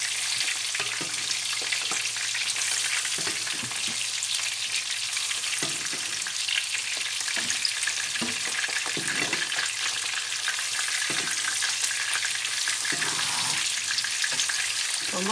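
Sea bream fries in a pan with a steady, bright, dense sizzle, broken by soft clinks and scrapes from a spoon or utensil as the fish is basted and turned.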